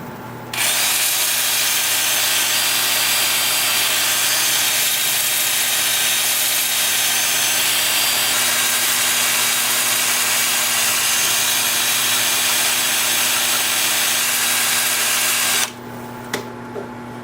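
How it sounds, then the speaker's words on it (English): A loud, steady whirring hiss of sea grape wood being sanded on a spinning lathe runs nonstop for about fifteen seconds, then cuts off abruptly. "Time for sanding."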